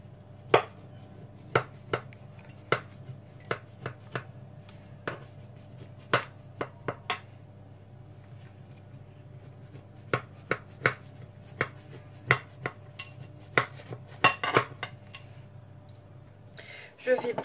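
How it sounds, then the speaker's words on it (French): A knife chops through rolled baklava on a board, making sharp, evenly spaced thuds in a steady rhythm with a pause partway, close and distinct over a low background hum. "Là, je vais couper. Il faudrait couper les morceaux avant la cuisson."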